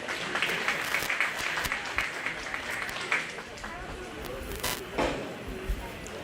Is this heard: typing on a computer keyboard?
no